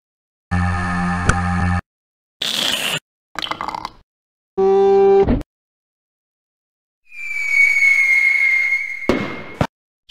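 Fireworks rockets in a Moomin video game fire off in separate bursts: several short synthetic pops and crackles, a rising tonal burst, then a long high whistle ending in a sharp bang, with silent gaps between.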